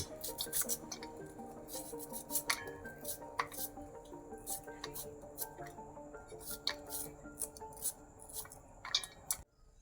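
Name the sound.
chopping onions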